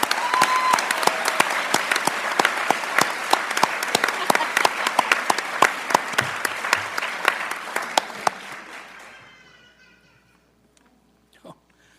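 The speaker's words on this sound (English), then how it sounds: "Let's give them another big round of applause" Audience applause at a school board meeting, a dense round of clapping that stays loud for about eight seconds before thinning out and fading to near silence, with a brief sound near the end.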